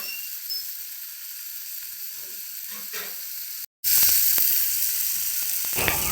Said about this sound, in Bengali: ঢাকনা ছাড়াই এটাকে কষাতে হবে ভালো করে, যতক্ষণ পর্যন্ত না তেল ছেড়ে দিচ্ছে ততক্ষণ পর্যন্ত এটাকে কষিয়ে নেব